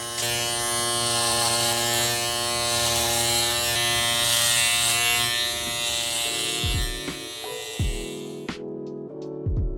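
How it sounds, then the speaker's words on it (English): Babyliss electric hair clipper running on its highest setting, a loud close steady buzz with a whining hum that stops near the end, followed by a few small clicks and knocks. "Now we're gonna go ahead and use the clipper on the highest level."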